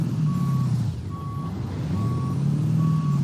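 Steady, evenly spaced reversing beeps ring out four times from a truck in American Truck Simulator, sounding over a constant low diesel engine rumble.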